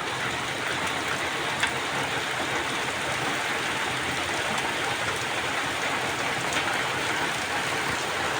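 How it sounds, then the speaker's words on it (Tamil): Steady, dense rainfall patters down continuously, a constant hiss of drops on surfaces with no voices or other sounds breaking through. "ஓகே மழை."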